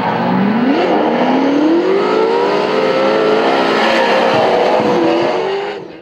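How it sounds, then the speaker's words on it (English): Two drift cars, a Ford 410 V8 leading and a supercharged Holden V8 behind, roar loudly and continuously at a raceway as the engines climb and sweep in pitch, fading out at the end. "The Ford 410 V8 leading out in front, the supercharged Holden V8 in behind."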